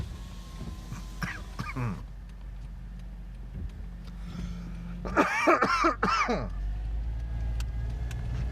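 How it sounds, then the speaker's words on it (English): A person coughs into their sleeve outdoors on a San Francisco street during the 2020 lockdown, a few sharp close coughs and throat clearing in two bursts over low traffic rumble. "I'm coughing into my sleeve."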